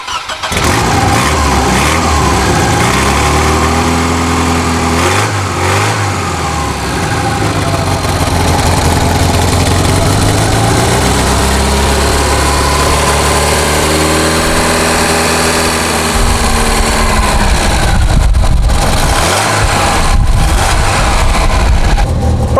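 Volvo PV544 historic rally car engine, loud and close, idling with a rough burbling note and revving up and down in several swells, no voices.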